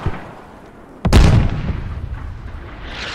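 A single heavy gunshot blast with a booming echo in the tactical shooter Squad, set in 50-versus-50 urban warfare in Fallujah; the shot cracks loudly after a quiet start, then fades into a lingering rumble.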